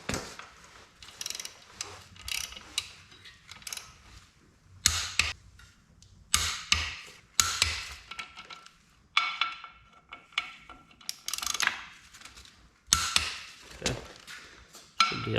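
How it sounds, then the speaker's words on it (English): Ratcheting clicks from a torque wrench tightening pressure plate bolts onto the flywheel during a K20A2 turbo swap into a Civic EG hatch, heard in close, repeated bursts separated by short pauses. "Now I've got the pressure plate seated to the flywheel. So now we'll torque this to spec."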